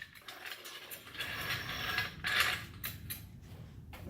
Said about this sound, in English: jack it back up